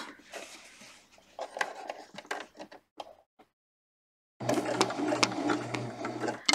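A sewing machine stitches a clutch lining in bursts of close, moderately loud whirring, pauses briefly into silence, then runs again steadily and louder to the end.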